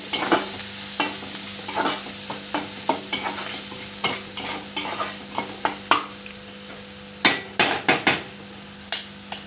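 Eggs beaten in a pan with a ladle, the ladle knocking against the pan in a steady run of sharp, fairly loud clinks and scrapes. A faint sizzle continues underneath and no voice is heard.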